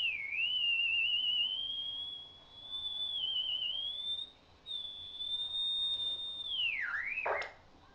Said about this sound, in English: you get a sort of 1950s sci-fi UFO type sound or something alien out there